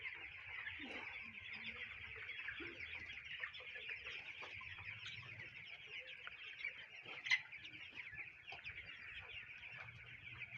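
Chickens in a shed warmed by a bulb, some of them sick, cluck softly and steadily in a quiet, continuous chorus with one brief louder call.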